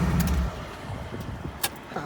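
A purple BMW E36 engine shuts off: a loud idle rumble cuts out abruptly, leaving quiet with a couple of faint clicks and knocks.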